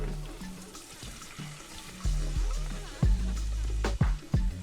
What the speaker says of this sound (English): Now I'm just gonna add the water.